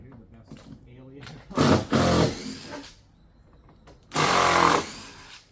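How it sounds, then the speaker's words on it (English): A power tool backs screws out of a panel in two loud whirring bursts separated by a short pause, with quieter background noise between them. "let's get some of these screws off of here"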